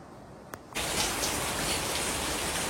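Steady rain falling, a dense even hiss that starts abruptly after a short quiet moment and then continues loud and unbroken.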